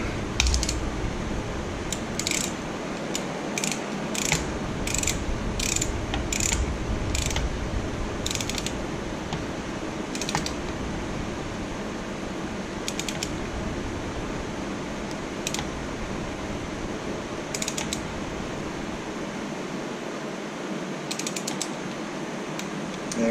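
A torque wrench tightening a motorcycle spark plug, bursts of quick ratcheting clicks repeating at intervals over a steady low background hum, close and moderately loud.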